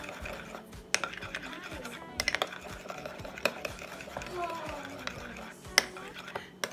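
A spoon clinks and scrapes against a bowl as homemade spring roll sauce with tomato sauce is mixed, close and uneven taps over a faint murmur of voices.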